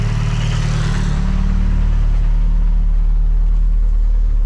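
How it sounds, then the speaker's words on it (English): A Toyota MR-S with a 1.8T engine runs steadily after being brought back to life, a loud, deep, continuous rumble with a slight swell near the start and then an even idle, with no talk. "so the car starts"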